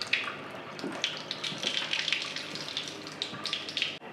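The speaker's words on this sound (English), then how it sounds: "there's a lot of air bubbles right now inside the water stream" Water streams steadily from a reverse osmosis system faucet, full of air bubbles, with a continuous close hiss and splash and small bubbly crackles.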